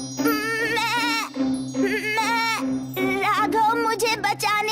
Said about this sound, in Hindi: बकरी खुद से कहने लगी,